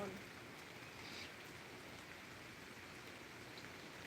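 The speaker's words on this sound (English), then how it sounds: "I'm getting rained on." Rain falling outdoors during an approaching storm, a faint, even hiss of drops pattering on surfaces that holds steady throughout, with no clear voices.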